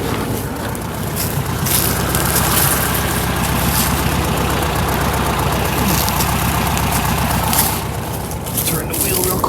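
A 1967 VW Karmann Ghia engine, left abandoned for 45 years, runs at a rough, steady idle that fills the whole stretch, close and loud without letting up.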